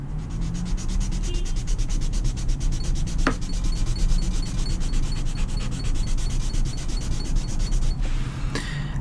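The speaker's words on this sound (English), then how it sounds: "now we can rub down the lines with a kneaded eraser" A kneaded eraser rubs back and forth over dried ink lines on paper. The scrubbing strokes are fast, even and continuous, close and fairly loud, with no voices.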